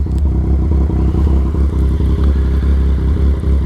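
Yamaha XSR 900 motorcycle on a demo ride: a loud, close, steady throbbing engine with a rough, pulsing beat and constant wind noise, and no voices.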